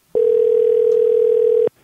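A single steady electronic tone from a telephone call being placed again, a loud continuous tone holding for about a second and a half before cutting off abruptly, with no voices.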